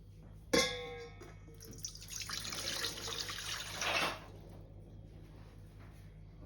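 Water poured into a mixing bowl to start a sourdough pizza dough, a steady splashing pour of about three seconds after a sharp start, in a quiet kitchen.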